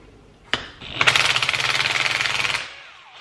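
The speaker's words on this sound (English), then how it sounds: "I'm just going to lightly use the impact on this guy." An impact wrench loosens the head bolts on a Honda Grom engine: a sharp click, then a loud, rapid hammering burst of about a second and a half that stops abruptly, close up with no voices.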